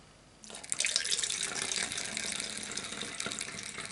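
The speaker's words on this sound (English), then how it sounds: "so up until this mark I'm going to fill it with window washer fluid, or screen wash" Window washer fluid poured into a bottle, a steady close splashing gush that starts abruptly and keeps running, with no talk.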